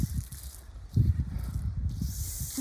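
A water pump forcing a powerful jet through a spray nozzle, heard as a steady broadband hiss with low rumbling underneath, surging slightly louder about a second in.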